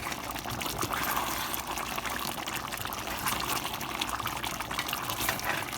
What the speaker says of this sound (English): So I turned the heat back up, got it bubbling like this.